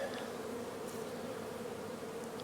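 Honey bees buzzing at a beehive on a farm in late May, a steady, dense drone of many insects, faint and continuous, with an occasional nearer bee passing.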